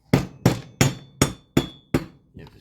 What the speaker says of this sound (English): You gotta tap with a hammer or a rubber mallet.